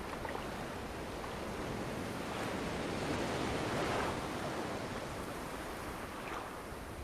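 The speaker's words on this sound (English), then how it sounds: "The waves dance at the shores, bringing turquoise" Ocean waves on a calm beach in Ecuador: a steady, full wash of surf with a gentle swell in the middle, heard alone without voices.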